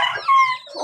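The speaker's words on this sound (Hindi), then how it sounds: "ये मुर्गा भी बहुत प्यारा है यार, क्लास का मुर्गा है कसम से" A village rooster lets out a short, nearby crow, a single loud drawn-out call lasting under a second.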